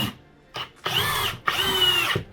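A Keyang power drill whirs in short bursts, driving screws into wood with a rising, straining buzz, two longer runs following a brief one, close by.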